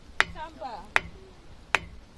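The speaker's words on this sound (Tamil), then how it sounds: "இது நார்மல் கல்லோட சத்தம் வருது பாருங்க" Three sharp, dry taps on an ordinary stone in Ranipet, Tamil Nadu, evenly spaced and close, with faint talking murmured between them.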